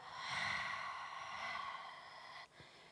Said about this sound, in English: and then I breathe out